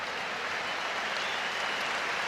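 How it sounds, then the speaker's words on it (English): Steady wash of stadium crowd applause at a Northern Ireland versus Iceland international football match as substituted player Ronan Hale leaves the pitch, dense and continuous throughout. "Ronan Hale, who gets a round of applause as his international debut comes to an end"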